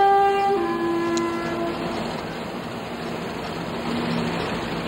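A train sounds its horn, a multi-tone blast through the first two seconds, then the steady rumble of the moving train continues at moderate loudness.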